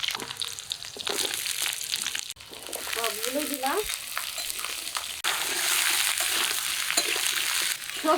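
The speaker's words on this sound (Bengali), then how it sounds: "আলু পটল তো ধুয়ে রেখেছি এগুলোও কড়াইতে দেবো" Washed potatoes and pointed gourd fry in hot oil in a wok, a continuous crackling sizzle broken by stirring scrapes, with a short whistle-like tone midway and a louder sizzle surge toward the end.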